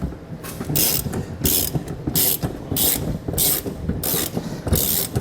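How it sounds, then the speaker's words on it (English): A ratchet with a 21mm socket lowers the spare tire winch on a 2022 Hyundai, producing close, loud bursts of rapid clicking repeated in a regular back-and-forth rhythm about seven times, with no talk. "we're going to take a 21mm socket and lower this winch here for your spare tire"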